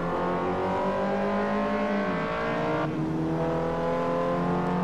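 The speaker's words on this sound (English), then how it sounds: "It's time for the Honda Fit to drive around Twin Ring Motegi" A Honda Fit engine hums and revs in the Forza Motorsport 4 racing game at Twin Ring Motegi, a steady droning tone that dips and shifts gear, then climbs again.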